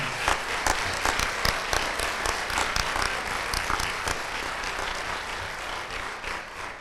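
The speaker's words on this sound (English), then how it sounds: "Please give a round of applause for our 2025 nominees." A crowd gives sustained applause for 2025 law enforcement award nominees at a Wayne County child abuse prevention community event, with thick, even clapping and a few sharper claps standing out near the front.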